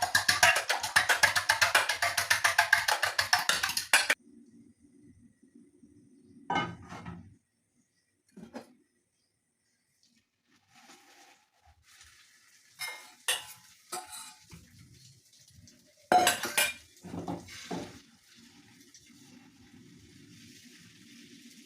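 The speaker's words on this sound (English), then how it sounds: "and then we're gonna beat our egg" An egg seasoned with salt and black pepper is whisked rapidly in a bowl, a fast, loud rhythmic tapping for about four seconds, followed by scattered utensil clinks and knocks amid near silence.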